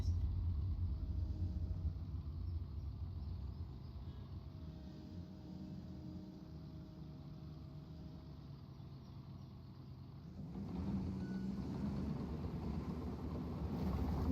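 Steady low rumble of a car engine in the Construction Simulator game, droning evenly and then rising in loudness near the end as the engine revs up.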